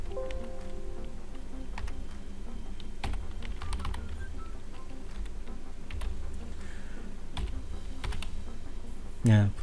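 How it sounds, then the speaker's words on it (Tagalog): Fingers type on a computer keyboard in quick, irregular bursts of clicks and taps, close up and steady throughout, with a faint low background hum. "pwede kayo mag-type kung anong gusto nyo"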